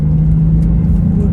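Mazda MX-5 roadster climbing a winding mountain road hill, its engine a steady close rumble with a constant low drone throughout, no talk over it.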